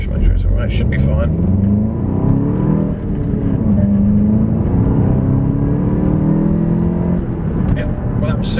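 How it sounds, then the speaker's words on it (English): A VW Golf GTI Mk7 drives off and accelerates, its engine note rising steadily through the gears from close inside the car, with someone talking over it at the start. "I'm just going to go for a little hoon up here."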